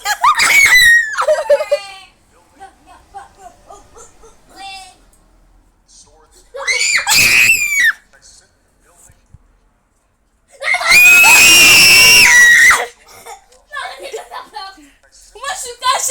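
Players of a horror video game scream loudly in three separate bursts, with shrill, piercing shrieks and quieter laughter and chatter between them; people speak French in between.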